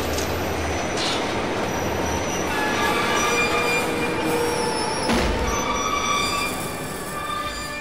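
A subway train rumbles past with loud, sustained metallic wheel squeals and screeching tones layered over a dense roar, close and continuous for several seconds.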